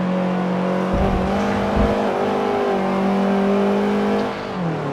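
Subaru engine in Forza Motorsport 7 on the Nordschleife, a steady loud drone with a high gear whine held throughout, dipping briefly near the end, no talk.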